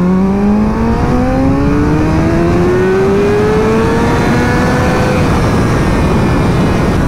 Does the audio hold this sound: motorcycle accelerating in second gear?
yes